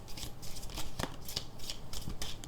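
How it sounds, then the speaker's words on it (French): A deck of cards being shuffled up close, with quick papery riffles and rustling bursts running steadily through the whole moment and no talking. "Je vais bien battre les cartes avant."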